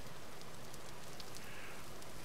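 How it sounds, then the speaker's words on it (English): Rain falls steadily in the video game Vintage Story, a constant, even wash of patter with no pauses and no voices. "And it's raining."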